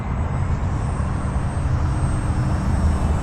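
An E-flite Micro Draco RC plane cruising at half throttle, its small electric motor giving a steady droning whine that holds at an even, fairly loud level throughout.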